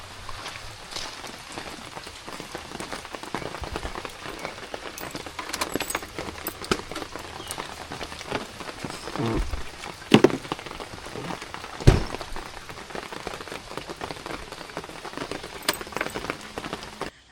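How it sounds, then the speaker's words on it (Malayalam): Steady rain patters on surfaces nearby, a continuous hiss with scattered heavier drops and a few louder knocks. "നല്ല മഴ പെയ്തു കൂട്ടാ"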